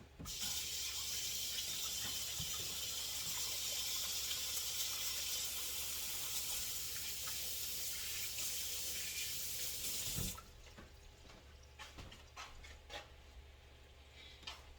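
Hands washed under a running kitchen tap, a steady close hiss of water splashing into the sink for about ten seconds, then the flow stops, leaving faint drips and small handling noises.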